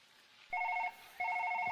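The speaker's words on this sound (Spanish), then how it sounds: "El teléfono, Paul." Two bursts of a telephone's electronic ringing, each about a third of a second, loud and clear with a short gap between them and no voices over it.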